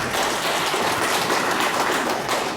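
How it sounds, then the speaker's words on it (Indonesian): An audience at a government social-security program meeting in Gorontalo claps: a thick, even wash of many hands at fairly loud volume, sustained without pause for a few seconds. "Tepuk tangan dulu."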